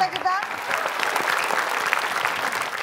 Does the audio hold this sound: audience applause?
yes